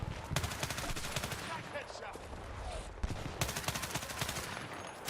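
Rapid bursts of automatic gunfire from a video game shooter, sharp repeated shots crackling steadily throughout, with a dense, busy background and a voice talking over the shooting.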